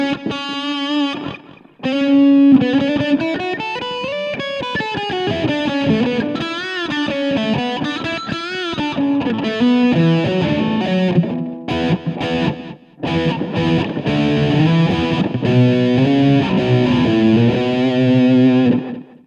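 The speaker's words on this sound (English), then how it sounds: "Then we turn that off and turn on the delay." Electric guitar played through a Roland Micro Cube amp with the delay effect on, distorted notes and bends repeating in echoing trails, loud and continuous with only brief gaps.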